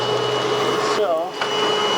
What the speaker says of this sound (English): We can use the bee vacuum to catch and contain as crowd control most of the bees